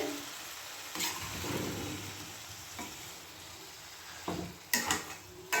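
Potato curry with peas and ground spice paste fries quietly in a wok, a soft steady sizzle broken by a few scrapes and knocks of a spoon stirring against the pan.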